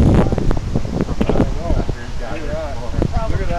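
Strong wind roars loudly against the microphone as a tornado passes over Wheatley, a steady close rush with gusts, while people talk over it.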